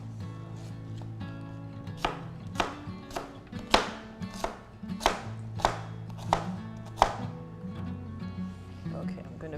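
A knife chops vegetables for cauliflower soup on a cutting board, roughly ten sharp, evenly spaced strokes landing close by. Someone talks quietly underneath the chopping.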